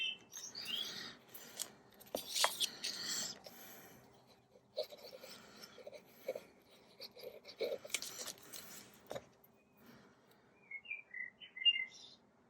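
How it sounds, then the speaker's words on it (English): Blackbirds singing faintly in the background of a quiet room, scattered chirps and song phrases mixed with close rustling and scissor-like snipping of paper. "if you can hear the blackbirds in the background"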